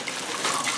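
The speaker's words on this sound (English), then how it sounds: "I'm just gonna pour some sweet peas in it." Frozen sweet peas poured into an Instant Pot with chicken and veggie broth, giving a brief, steady rushing patter like a stream of small hard pieces, close and fairly quiet, with no talking.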